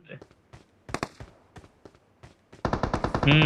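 PUBG Mobile gunfire, scattered single shots followed by a dense rapid burst of automatic fire near the end, with a player talking over it.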